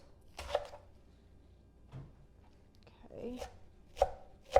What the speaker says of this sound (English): I am going to use a knife. This is a heartier lettuce, and I'm going to chop